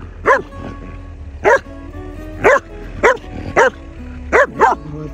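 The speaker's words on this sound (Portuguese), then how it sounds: "cachorro aqui tá latindo faz hora" Dog barking outdoors at a rural farm, agitated by a snake, seven loud single barks spaced irregularly about a second apart, close by, with no talking.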